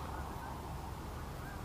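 Geese honk continuously in a dense, steady chorus at a field during a duck hunt, with cattle nearby; the calls blend into a constant wash at moderate, even loudness with no talk.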